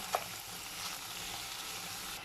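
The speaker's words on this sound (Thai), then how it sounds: "ค่ะผัดไป 5 นาทีนะคะ สังเกตไหมคะ น้ำจากเนื้อแล้วก็กะทินะคะ ก็จะออกมาแบบนี้" Beef pieces stir-frying in coconut milk for a Thai massaman curry with pineapple, giving a soft, fairly quiet bubbling sizzle with a single brief clink near the start.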